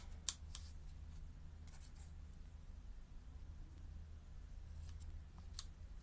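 Scissors make faint, sparse snips while cutting paper for card making, spaced out across a quiet room with a low steady hum.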